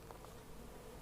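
A honey bee colony, extracted from a rotten tree, hums steadily as it is moved into a 10-frame hive box. The buzz is dense and continuous, moderately loud and close, with no talk.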